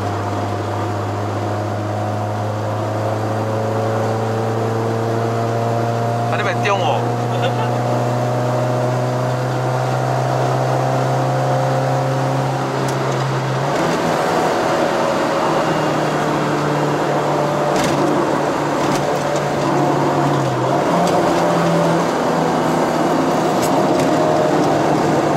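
A 1996 Honda Civic EK four-door with a swapped K24 engine and six-speed manual pulls hard from inside the cabin, its engine drone steady and loud. Partway through, a gear change drops the pitch before the drone climbs again.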